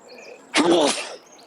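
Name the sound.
sneeze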